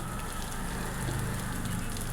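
Fish frying in oil in a pan after being turned, a steady close crackling sizzle like light rain that holds throughout with no talk.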